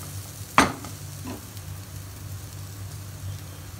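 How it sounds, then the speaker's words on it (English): A food mixture seasoned with salt and sugar being stirred in a pan: one sharp scrape and clatter, then a fainter second stroke over a steady low sizzle, with no voice. "Now mix it nicely."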